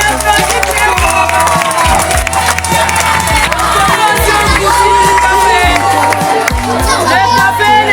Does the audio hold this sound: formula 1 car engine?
no